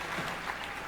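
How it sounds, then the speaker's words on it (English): Brief burst of dense clapping from a crowd at a Comic Con panel for The 100, steady and moderately loud, with no distinct voices. "how about a round of applause for that amazing first season"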